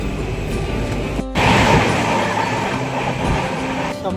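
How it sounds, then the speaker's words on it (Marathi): A Konkan Railway passenger train runs along the Ratnagiri to Diva line, heard from inside as a loud, continuous rumble of wheels on track with a brief break partway through. "कोकण रेल्वे"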